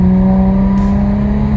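A Nissan G35 fitted with a rear-mount turbo, heard from inside the car at steady high engine drone. A loud constant tonal hum with no sharp rise, and no talking.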